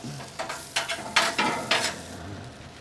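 Potato fries stirred on a grill, giving a run of scraping stirs over a steady sizzle, close and fairly quiet, with no voices.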